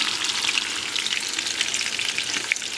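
Homemade meatballs frying in a pan as they are gently lifted and turned one by one, giving a steady close sizzle with small crackling pops throughout.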